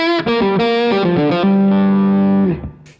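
Electric guitar through a 29 Pedals FLWR overdrive at setting 2B0, playing a short distorted phrase of quick notes that ends on a sustained, harmonically rich chord before cutting off.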